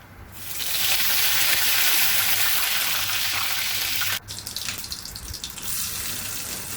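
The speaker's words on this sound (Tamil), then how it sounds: "கடுகு பொரியிற சத்தம் நல்லா உங்களுக்கு கேட்கும்னு நினைக்கிறேன்" Mustard seeds crackling and spluttering in hot oil for a South Indian sambar tempering, a loud continuous close-up sizzle that dips briefly near the end and carries on alone without talk.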